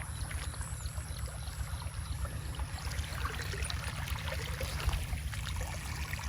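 Water pumped into a rice paddy pours and flows continuously, a steady close splashing rush with low rumble underneath and small trickling accents, no talking over it.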